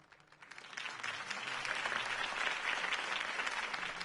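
Crowd applause after Harvey Dent's campaign speech in Telltale's Batman game, rising quickly from quiet into a sustained wash of many hands clapping.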